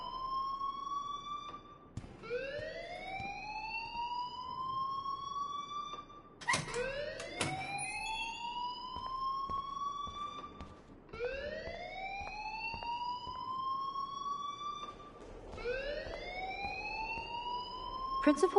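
A school alarm in a video game wails in repeated rising electronic sweeps, each lasting a few seconds. It is loud and continuous, with a faint voice underneath.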